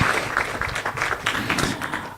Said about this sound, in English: Clap hands for Nelson, please.